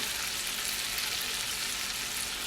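A steak sizzles and spits in a hot pan as it is basted, a dense, steady crackling hiss that runs unbroken and fairly loud throughout.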